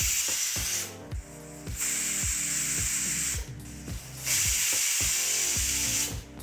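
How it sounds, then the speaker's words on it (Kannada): A pressure cooker on a high flame, cooking sago for payasa, gives off loud hissing bursts of steam in repeated surges, with a steady rhythmic knocking pattern running underneath. "ಕುಕ್ಕರ್ ಲಿಡ್ಡನ್ನು ಮುಚ್ಚಿ 3 ವಿಸಲ್ಲು ಕೂಗಿಸ್ಕೋಬೇಕಾಗತ್ತೆ"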